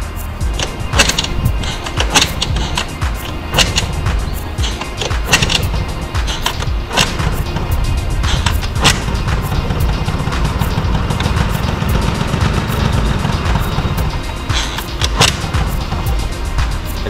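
A Honda Stream scooter engine cranks with uneven bursts and pops before catching and running steadily, a loud, rough, close-up idle filling the recording alone.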